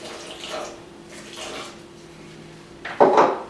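Water pours briefly into a blender jar holding smoothie ingredients with coconut flakes, a short splashy burst near the end after quiet kitchen ambience.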